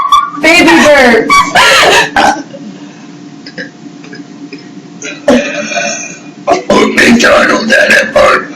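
During a burp contest among three girls, several loud, throaty burps come in quick bursts, separated by quieter gaps of chatter and giggling.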